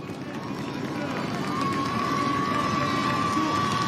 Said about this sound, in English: You can hear the crowd shouting. They're going crazy for this young kid.